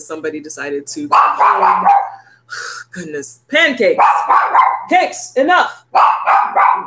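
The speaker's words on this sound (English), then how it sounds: "Excuse the dog barking because somebody decided to come home." A dog barks repeatedly indoors in loud, close bursts, mixed with yips, while someone speaks over and between the barks.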